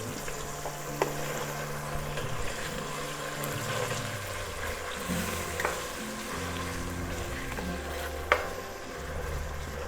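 Chicken pieces with ginger and garlic sizzle steadily in a pan for a lemon pepper chicken dish, with a spoon stirring and scraping through the mix and occasional sharp clinks against the metal.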